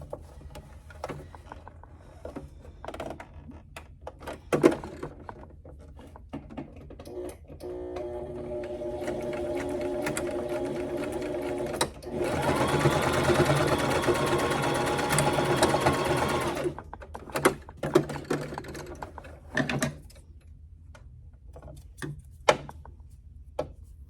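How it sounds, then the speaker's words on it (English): A sewing machine stitches shut the opening of a fabric jar bonnet, its rapid, close, rhythmic mechanical chatter running for several seconds between light handling clicks and rustles of fabric. "And then we're going to stitch up our little opening."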